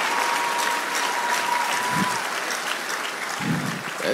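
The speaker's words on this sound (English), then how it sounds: "Mona, clap for him" An audience at a live event applauds a speaker, Miss Folake, with steady, dense clapping filling the whole stretch at a fairly loud level, plus a couple of brief low thumps.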